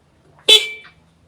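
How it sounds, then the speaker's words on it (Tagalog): A car horn sounds one short, sharp honk, close and loud, ending quickly with a brief tail. "busina lang kayo isa"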